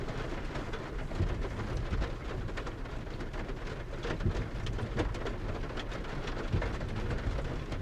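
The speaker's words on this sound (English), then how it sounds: "you can't see anything, it's raining so hard." Heavy rain pours without letup in a hard downpour, a dense, steady roar of drops close by, with no voices.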